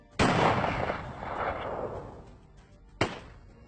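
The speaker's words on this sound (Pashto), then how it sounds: "د ارګ له مخامخ جومات نه پرې یو ډز کیږي. بیا بل ډز کیږي." Two gunshots fired from a mosque opposite a palace, a loud sharp crack with a long echoing tail followed about three seconds later by a second crack, heard alone.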